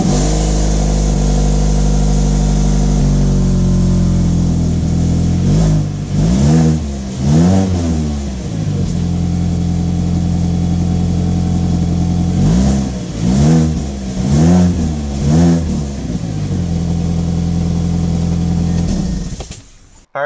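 A Mazda 3 engine revs hard through a loud, throaty Mazdaspeed cat-back exhaust in several sharp bursts, settling back to a steady rumble between them before cutting off at the end.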